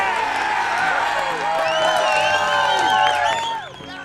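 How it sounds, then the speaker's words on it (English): Golf gallery, fellow club members and a caddy cheering, whooping and clapping right after a 20-foot putt on a par 4 hole, a lively close burst of mixed shouts and applause that fades out at the end. "he gets a much-deserved congratulations and applause from fellow club members, his caddy, and the entire gallery watching"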